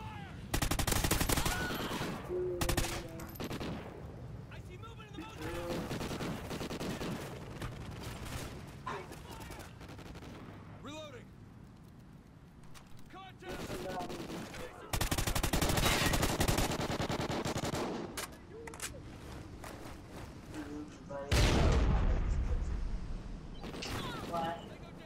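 Rapid automatic gunfire bursts in a team shooter video game, loud and repeated over about twenty-five seconds, with players talking over the shots.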